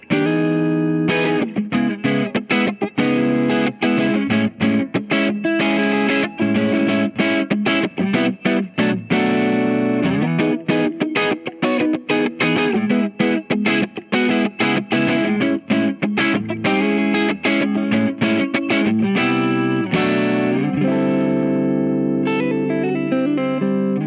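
Electric guitar played on its neck pickup through a Chandler Limited GAV19T amplifier with Martin A. Smith pickups, giving a loud, continuous stream of driven chords and notes with steady rhythmic attacks, close and alone with no talk.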